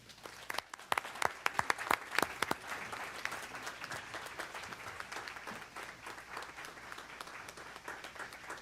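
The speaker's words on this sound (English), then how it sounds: "A round of applause for Heather and Jessica." Audience at a school district board meeting applauding two science educators, sharp distinct claps at first merging into steady, moderately distant applause.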